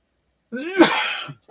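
A single sharp sneeze, close and loud, preceded by a quick intake of breath, then silence.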